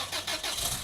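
A car engine cranks and catches, a brief rough mechanical churn heard close and fairly loud, with no voices.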